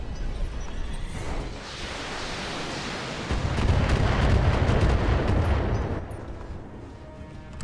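Mechs firing weapons in the video game Battletech: a steady roar of booming shots and rumbling impacts that swells louder midway, then tapers off, with no talk.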